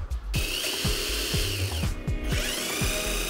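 A Mitsushi XH-1006 18.8V cordless drill running close up, a high motor whine over a rapid, regular clicking ratchet rhythm, with brief pitch dips as the motor eases.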